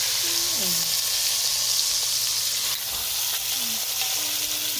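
Beef sears in a hot pan for Italian beef, giving a steady loud sizzle with a faint background hum and a few brief tonal chirps throughout.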